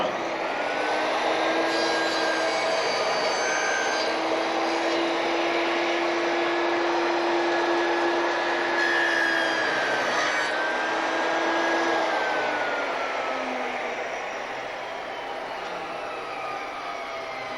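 A Triton saw cuts a curved moulding for a reverse-angle mitre, a steady loud motor whine with a high-pitched tone running for most of the cut, then easing slightly near the end.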